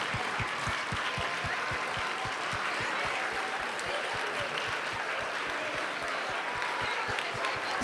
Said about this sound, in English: Let's give the 5th grade another huge round of applause